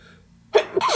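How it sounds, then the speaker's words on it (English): A single sharp sneeze from a man partway through a geometry lesson on special right triangles, heard alone after a stretch of quiet: a short inhaled build-up, then the loud burst and a quick second voiced tail. "I have to sneeze"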